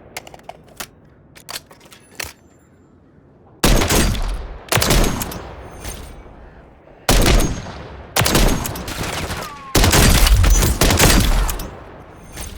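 Jak Volkh sniper rifle in the video game MWIII, several loud, sharp shots with long rolling tails, spaced a second or two apart after quieter ticks and clicks.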